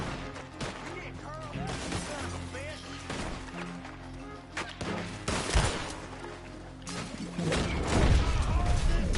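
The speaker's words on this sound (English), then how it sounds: "get that machine gun going in earnest" Sustained gunfire in a Red Dead Redemption 2 firefight, dense bursts and cracks over a steady mix of game noise, growing louder toward the end while someone talks throughout.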